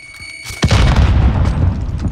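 A frag grenade detonates in a video game firefight: a quiet lead-in broken by one sudden, loud, close blast, followed by a long rumbling, crackling tail.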